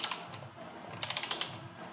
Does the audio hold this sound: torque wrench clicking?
yes